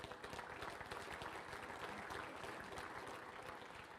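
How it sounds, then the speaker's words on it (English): Steady crowd applause at a Pennsylvania auctioneer competition championship, honoring auction service sponsors; dense, continuous clapping at an even level throughout, with no voices standing out. "If you would, give them a round of applause."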